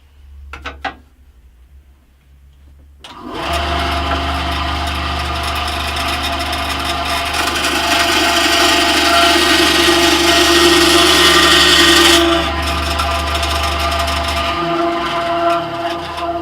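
A compact Scheppach HBS-20 benchtop band saw starts after a few clicks, then runs with a steady motor hum as the blade cuts through wood, loud and close, before the cut eases off near the end.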